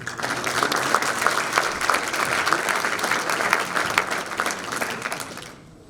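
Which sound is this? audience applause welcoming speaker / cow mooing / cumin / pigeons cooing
audience applause welcoming speaker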